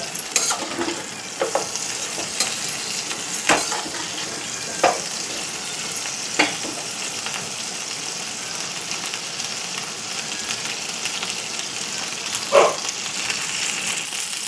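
Chicken legs frying in a pan give a constant close sizzle, with intermittent louder scrapes and clatters as the pieces are stirred and turned over, and no talking.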